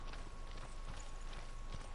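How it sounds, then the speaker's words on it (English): Rhythmic hoof-like thuds, resembling a horse's clip-clop or a heartbeat, recurring steadily inside the Hellblade: Senua's Sacrifice game over a dense, noisy ambient bed, with no talk. "It was like a horse hoof. Or a heartbeat or something."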